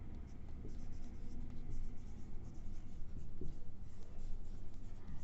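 Writing an equation during a mathematics lecture, a continuous scratchy rubbing of the writing tool held steadily over several seconds against a thick, constant background noise.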